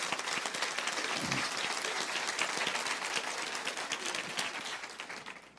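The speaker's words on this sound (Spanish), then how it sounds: "aplauden al Señor si quieren" Church congregation applauding during a sermon, dense continuous clapping from many hands in a large hall, strong at first and tapering slightly toward the end.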